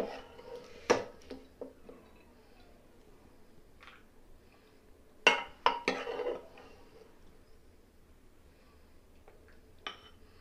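Mushroom curry is served from a pressure cooker into a bowl: a few sparse metallic clinks and scrapes of a spoon against cookware, quiet, with long gaps between them.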